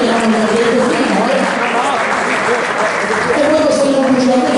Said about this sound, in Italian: facciamo un applauso del pubblico ovviamente